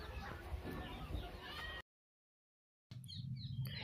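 Naked neck chickens clucking nearby, a busy flock sound that cuts out abruptly into silence for about a second, then resumes.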